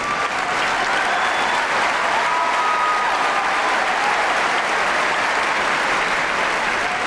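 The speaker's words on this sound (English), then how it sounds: "another standing ovation by centre court crowd" Sustained applause from the Wimbledon Centre Court crowd during a standing ovation at the 2013 semi-final, a dense, even roar of clapping from a large stadium audience with no talk over it.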